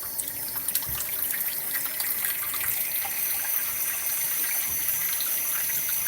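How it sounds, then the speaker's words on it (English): Cold water runs steadily from a kitchen faucet while pie dough is being made, a continuous close splashing stream with no talking. "my water's cold coming out of the faucet"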